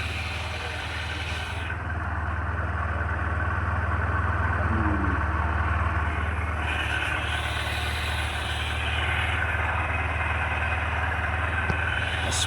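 A Honda SP 125 motorcycle idles steadily after repair, a close, even low rumble that holds for the whole stretch with no talk over it.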